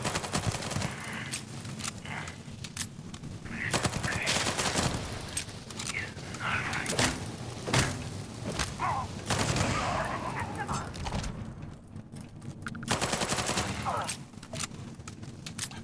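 Gunfire in the space game Starfield, survival mode, with repeated sharp shots and bursts spread through a busy firefight mix, a voice talking over parts of it.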